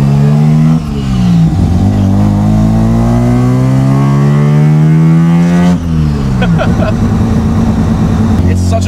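A Mazda 1300 street cruiser with a 13B bridgeport rotary engine revs hard, its pitch climbing in a long pull, dropping at a shift, then rising again, loud and close.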